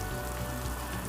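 Rain falls in a soft, steady, even hiss of countless drops, faint and uninterrupted for about a second.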